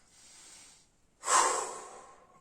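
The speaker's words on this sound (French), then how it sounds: "on expire fortement" A forceful exhalation during a sophrology relaxation exercise, a strong breathy rush of air following a softer breath and a brief pause, close and alone.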